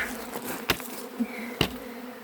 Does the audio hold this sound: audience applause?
no